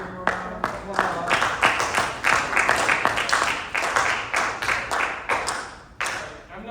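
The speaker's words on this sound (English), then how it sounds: "Let's give him a round of applause" A small audience claps for a comedian at a student standup performance, sparse and uneven hand claps with distinct individual strikes, rising and falling in bursts before tapering off near the end.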